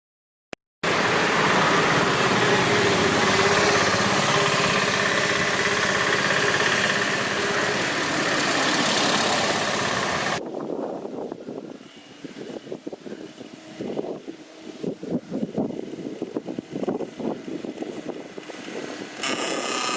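A vehicle engine running, first a loud steady roar for about ten seconds, then a rougher idle with uneven pulses and revving bursts close by, with no speech.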